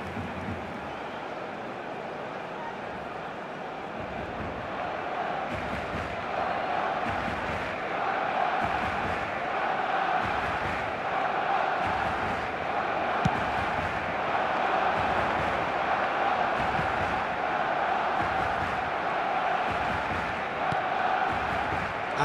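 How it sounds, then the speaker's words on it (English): Stadium crowd in the football video game eFootball 2024, at Camp Nou during Barcelona vs. Manchester United, a broad, continuous roar that swells with rhythmic chanting pulses and stays loud throughout, with no commentary over it. "Well, the crowd clearly liked what they just saw."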